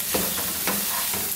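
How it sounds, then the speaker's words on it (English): Onions and chiles fry in hot oil with a steady, close sizzle and crackle, broken by a few brief stirring scrapes in a home kitchen. "I love the way this onions smell when they're frying."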